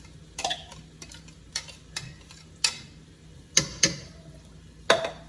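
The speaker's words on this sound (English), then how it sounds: "Putting it in with the ground beef, and I'm letting that, blending it in together" Chopped sausage is stirred into browning ground beef for Creole rice, with sharp spoon scrapes against the pan at irregular intervals over a faint background sizzle.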